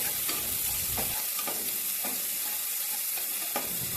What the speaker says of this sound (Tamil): வெங்காயத்தை எண்ணெயிலே நல்லா வதக்கி விட்டுக்கோங்க